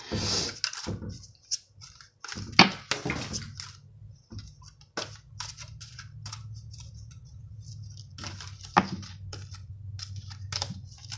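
Tarot cards being shuffled and scattered by hand: crisp papery flicks and taps in irregular bursts, close and quiet, with a low steady hum underneath and no talking.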